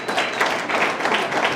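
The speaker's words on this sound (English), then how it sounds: "Give a round of applause for the models." An audience claps for jacket models at a campaign launch event, a brief burst of dense, steady applause from a crowd.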